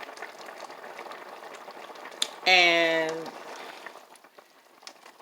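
Shrimp teriyaki sauce, a little too watery, simmers in a pan with a soft, continuous bubbling hiss throughout, briefly under a short spoken word midway.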